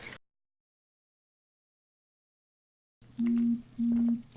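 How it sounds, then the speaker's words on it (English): After a stretch of silence, a phone gives two steady, low electronic tone pulses, each about half a second long with a short gap between them, clear and close. "That is my phone."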